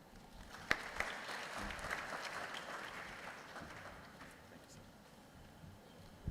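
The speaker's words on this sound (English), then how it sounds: "Another round of applause for Dr." Applause from attendees at a regional advisory committee meeting, a soft, distant wash of clapping that gradually fades out, with a few sharper claps near the start.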